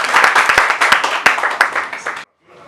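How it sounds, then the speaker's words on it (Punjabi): An audience at a talk gives a burst of applause, a fairly close crowd clapping with sharp individual claps standing out, which ends abruptly and leaves faint sound afterwards. "ਤਾਲੀਆਂ ਹੋ ਜਾਏ"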